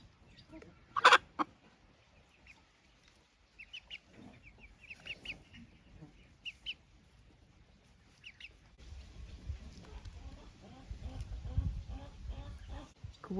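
A broody hen clucks among her chicks in a farmyard, her sharp close calls rising in a few loud bursts over a steady bed of soft peeping and low clucking from the flock.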